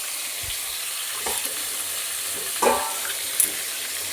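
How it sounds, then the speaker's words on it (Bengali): Crabs frying in hot oil in a home kitchen pan, a steady sizzle with a few sharp stirring scrapes and clinks standing out, close and moderately loud, with no talking. "আগে কাঁকড়াগুলো ভেজে তুলে রাখি"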